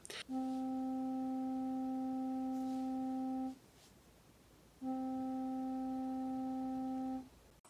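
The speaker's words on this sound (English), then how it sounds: "I will play the same note through both speakers. I picked middle C, which is 261 cycles per second." A steady middle C tone at 261 Hz plays through speakers as a pure, even note for about three seconds, stops briefly, then sounds again for roughly two and a half seconds.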